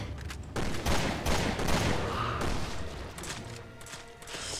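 Heavy-recoil weapon firing in Resident Evil Revelations 2, a fast burst of loud overlapping shots with mechanical clatter, followed by scattered bangs and thuds at close range.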